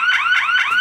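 A Retekess TH103 motion sensor security alarm sounding a loud, close, rising electronic whoop that repeats about three times in quick succession, alone.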